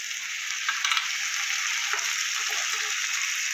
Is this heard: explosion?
no